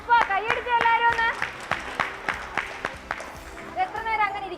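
A group of primary-school children at a government school claps hands together during a taekwondo demonstration. The claps are close and steady, with a few crisp beats each second, and voices talk over them.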